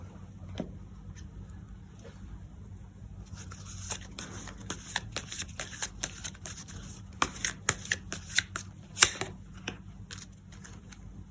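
Tarot cards shuffled for a love reading, starting with a few faint flicks and then building into close, rapid riffling and slapping of the deck over a low steady room hum.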